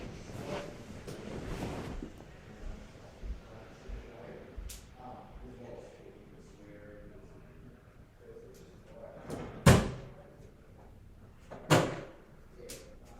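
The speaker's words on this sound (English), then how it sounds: "I'm just going to shut my door." A door being shut indoors, with soft shuffling and handling sounds building to a sharp thud near the end and another knock soon after, fairly quiet overall and close by.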